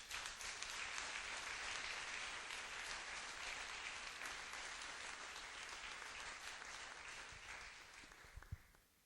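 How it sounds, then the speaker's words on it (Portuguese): A church congregation at a worship conference applauds steadily, a dense, sustained wash of clapping that fills the room and fades slightly toward the end. "Pode aplaudir o Senhor."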